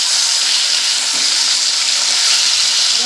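Rupchanda pomfret pieces frying in hot oil, a steady broadband sizzle filling the whole stretch with a few faint pops, close and fairly loud with no voices.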